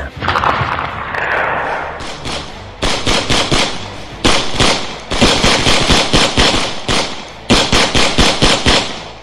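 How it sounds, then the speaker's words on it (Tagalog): Gunfire sound effect in a Filipino aswang action-horror audio story: sharp rapid bursts of shots in several clusters, loud and close, separated by brief pauses. "Papalakas ng papalakas ang putukan na yun"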